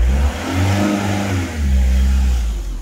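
A van's engine revs up as the clutch is let out during a learner's first drive, a mid-pitched motor rising, easing off briefly, then swelling again close by with no talk over it.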